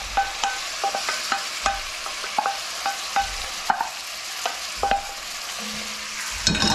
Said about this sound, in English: Onions and carrots, we're going to let those cook for just a couple minutes until they're softened but not browned